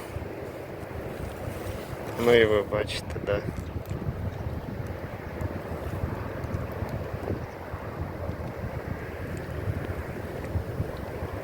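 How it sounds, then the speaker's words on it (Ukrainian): Steady wind noise roars across the microphone throughout outdoors by the Dnipro river while fishing, with a brief louder gust early on and a voice speaking over it. "Вітер колосален."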